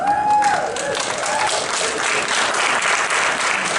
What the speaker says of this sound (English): I'll let the applause build.